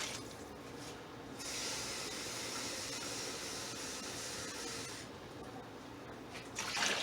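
Two cups of water poured into a gumbo pot, a steady splashing hiss of liquid running for several seconds with no talking.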